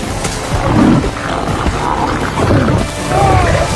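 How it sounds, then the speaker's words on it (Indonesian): A lion roars and grunts repeatedly in a fight with a man in the 2022 film Beast, with loud, rough bursts and no speech. "Pertarungan antara Ned melawan singa pun dimulai."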